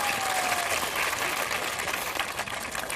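Steady, dense applause from a crowd at a political election event in Kanpur, Uttar Pradesh, filling the whole moment at an even, loud level without a break.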